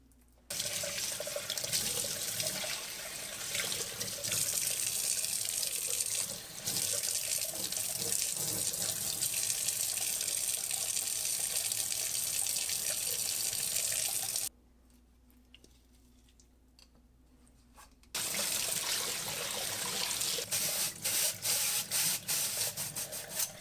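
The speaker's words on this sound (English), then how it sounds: "Rinsing the bowl out was easy." Running tap water pours steadily as the bowl of a Kuvings EVO 820 slow juicer is rinsed in a sink, loud and close with a brief lull midway, no talking.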